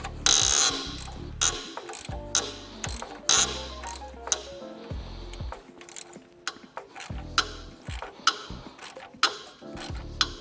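Ratchet wrench clicking as a bolt is loosened on a Mazda MX5 NB engine during cambelt and water pump work, repeated close quick bursts of ratcheting clicks and mechanical clunks in a quiet garage.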